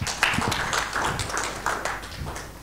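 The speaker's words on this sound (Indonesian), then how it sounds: "beri tepuk tangan buat Tuhan" A church congregation claps during a sermon in scattered, uneven bursts of hand claps. The clapping is moderately close but fairly soft and fades toward the end.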